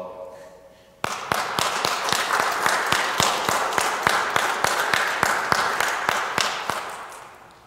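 A church congregation breaks into steady applause that starts abruptly and holds at full strength, dense rhythmic clapping from many hands close by, fading slightly near the end after some brief talk at the start.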